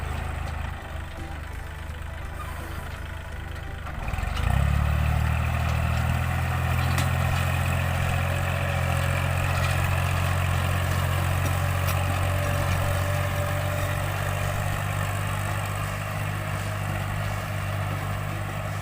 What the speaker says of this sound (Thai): นี่ขับ รถ ไถ ครับ พี่น้อง ปั่นข้าวครับ